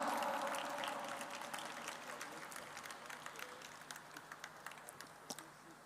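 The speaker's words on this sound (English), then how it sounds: "Let's clap louder." An audience at a Radha Madhava Golden Jubilee festival applauds, a dense wash of clapping that fades gradually to a few scattered, distinct claps at the end.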